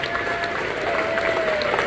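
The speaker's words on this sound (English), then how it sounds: "Can we please have a massive round of applause" Short burst of audience clapping at a motorhome and caravan show talk, steady and moderately loud as a speaker is welcomed to the stage, with a faint tonal whine underneath.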